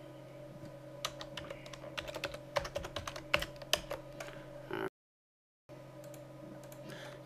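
Fingers type on a computer keyboard in steady bursts of crisp key clicks over a low electrical hum, stopping in a short silence before the hum returns.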